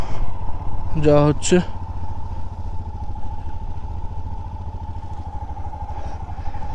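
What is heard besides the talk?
motorcycle engine on mountain ride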